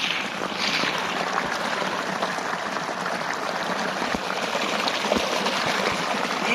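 Water gushes and splashes steadily from a pump outlet, a loud continuous rushing pour with a few knocks and bumps, nearby and without talking.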